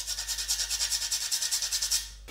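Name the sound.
grating fresh nutmeg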